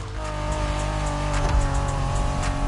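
A Honda NSX sports car engine drones in a steady high racing hum in The Crew Motorfest, loud and continuous with a brief thump midway and no talk.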